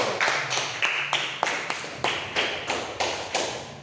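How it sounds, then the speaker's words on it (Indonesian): Classroom audience of students applauding for a discussion group, heard as a series of roughly regular, sharp claps or taps at moderate distance, about a dozen across the stretch, with no voices. "Beri dulu tepuk tangan buat kelompok 1"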